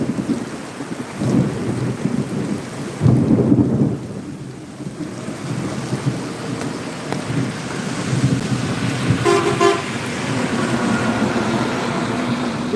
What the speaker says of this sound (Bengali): এই যে বিদ্যুৎ চমকাচ্ছে এখনই বিকট শব্দ হবে